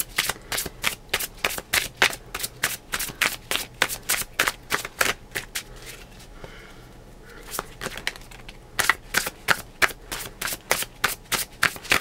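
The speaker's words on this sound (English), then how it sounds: "I like to shuffle until they fly out" Tarot cards are shuffled over and over in fast, rhythmic riffling bursts, close to the mic, with a brief lull midway before the steady shuffling resumes.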